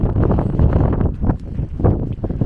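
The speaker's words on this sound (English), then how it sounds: "The wind is insane. It's pushing me as I'm walking right now." Strong gusts buffet the microphone on a stretch of Irish coast, a loud, roaring rush that swells and dips unevenly, briefly easing near the middle before surging again.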